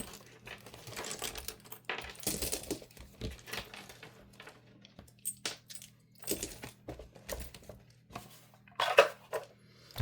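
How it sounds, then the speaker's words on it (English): Dice clatter and tumble down a dice tower on a desk, a string of sharp hard clicks and rattles in irregular bursts, close and fairly quiet. "Dice tower."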